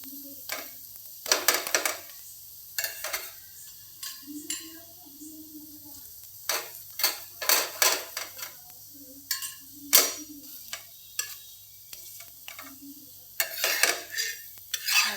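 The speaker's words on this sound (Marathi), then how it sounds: "छान दोन्ही साईडनी छान भाजून घ्यायचं" A spinach paratha roasts on a pan with ghee or oil, faint sizzling under irregular clinks and scrapes of a spatula against the pan, with a few low hums of a voice in between.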